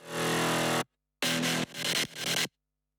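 High bass synth patches from an electronic music drop alternate in short, loud, dense bursts, roughly three or four hits separated by abrupt silences.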